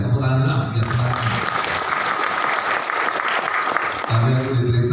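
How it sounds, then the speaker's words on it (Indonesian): A congress hall audience at a teachers' association congress breaks into sustained, loud applause, with a speaker's voice audible just before and after the clapping. "tepuk tangan dulu ya semangatnya"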